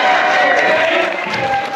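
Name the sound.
crowd cheering at a party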